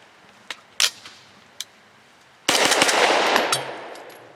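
A Grand Power Stribog fires ARCHON 124 grain jacketed hollow point rounds: a few isolated clicks and cracks, then a loud burst of rapid shots that trails into echoing reverberation.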